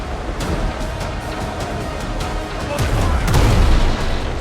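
Ship cannon fire in the pirate game Windrose sounds as a heavy booming blast near the end, rolling low over a steady background of game ambience, with a few sharper pops before it.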